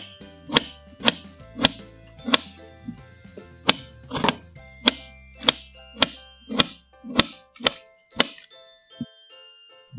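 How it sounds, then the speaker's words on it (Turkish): A knife chops tomatoes in a steady rhythm on a cutting board, about a dozen sharp, close knocks, each with a faint ringing tail. "Domatesleri de küçük küçük doğradım."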